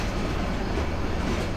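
Steady rumble of a train rolling alongside a railway platform as it pulls in, a dense continuous roar of wheels and carriages with no pauses.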